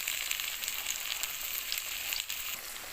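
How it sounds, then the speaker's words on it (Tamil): Sliced green plantain sizzles in oil in a pan over a medium flame, giving a steady, close frying hiss with crackles that runs the whole time and no talk over it. "ஸ்டவ் மீடியம் இதில் வச்சுட்டு ஒரு பக்கம் ஃப்ரை ஆனாலும் இந்த பக்கம் திருப்பி போடணும்"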